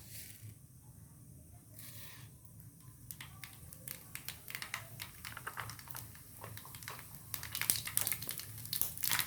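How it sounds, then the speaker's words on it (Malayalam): Rapid, irregular little pops and crackles build up and grow louder as mustard seeds burst in hot coconut oil, with no voices. "കടുക് പൊട്ടി വന്നതിന് ശേഷം"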